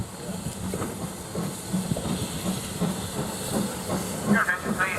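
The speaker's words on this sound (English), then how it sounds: "a demonstration freight service on an up train taken by Standard Class 2 78018, heading up towards Leicester North" Standard Class 2 steam locomotive 78018 hauls a demonstration freight train past at moderate distance, with steady hissing steam, chuffing and rhythmic rail clatter building toward the end, and faint voices in the background.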